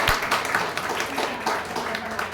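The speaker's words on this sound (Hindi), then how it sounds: "जोरदार तालियां बच्ची के लिए" Applause breaks out for a little girl after her dance at a Diwali program held at Om Shanti Bhawan in Raebareli, a steady patter of many hands clapping across the whole stretch with some crowd murmur beneath.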